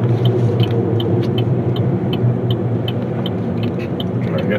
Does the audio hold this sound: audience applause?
no